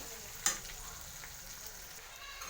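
Raw banana pieces dropped into hot oil in a pan for a Telugu-style banana fry, giving a faint, steady sizzle after one brief sharp clatter near the start.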